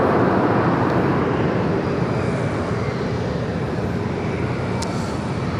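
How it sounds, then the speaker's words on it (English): An Airbus A380 airliner at LAX roars loud and steady with broad jet engine noise, holding constant throughout without speech. "First A380 of the day"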